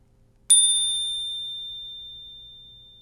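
Single crisp strike of an e-bike bell, a bright clear ding that rings out alone and decays slowly over a few seconds in near silence.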